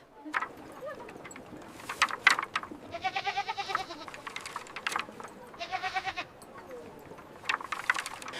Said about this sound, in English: The sheep are hungry tonight.